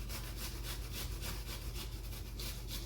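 Vegetables being grated by hand on a grater for homemade coleslaw, a close, steady rhythmic scraping of repeated strokes with no talking.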